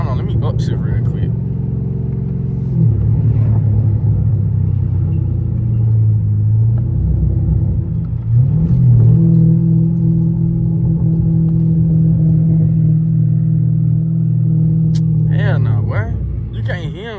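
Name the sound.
car engine revving while upshifting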